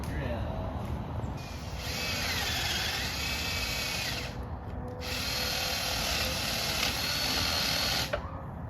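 A power drill whirs steadily at close range during repair of a 31-foot boat trailer, pausing briefly midway before running again at an even, high-pitched whine.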